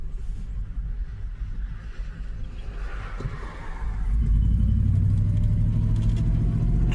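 A Hummer H2 with no oil in the transfer case or differential drives along, its engine a steady low rumble that swells louder partway through, with no talk.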